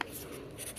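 A pen scratches across a paper savings chart in a brief, close, continuous scribble lasting under a second.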